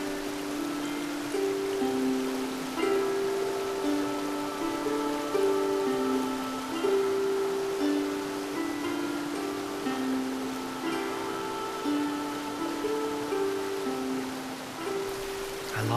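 Heavy rain pours steadily onto water and leaves, a dense continuous hiss, while a sustained tonal drone of musical notes plays over it throughout.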